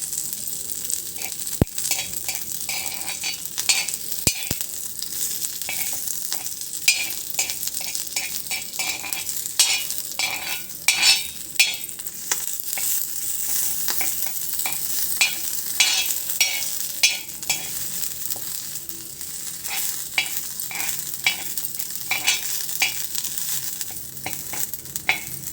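Food sizzles steadily in a hot pan while a utensil stirs and scrapes it, giving frequent sharp clicks and taps against the metal over a constant hiss, close and moderately loud.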